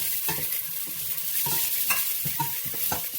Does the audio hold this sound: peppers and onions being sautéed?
yes